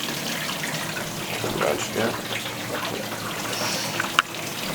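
Tap water runs through a hose into an aquarium, a steady close gush and splash with a brief clink near the end.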